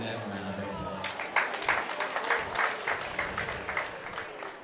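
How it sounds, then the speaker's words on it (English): Audience applause at a county fair goat show in Las Animas County, where a sparse crowd claps in a loose, uneven patter for several seconds after a quieter opening with a voice over the arena sound. "Go ahead and give them a round of applause"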